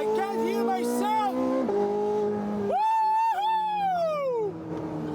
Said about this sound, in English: These straight pipes are incredible, are so loud.